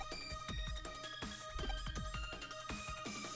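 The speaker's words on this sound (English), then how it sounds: "Is her theme just like a pretty 2000s ringtone?" A character theme from the video game Digimon Story: Cyber Sleuth plays: a bright, tinny synth melody like a 2000s phone ringtone, with repeating plucky notes over a pulsing low bass. The music plays alone, with no talking.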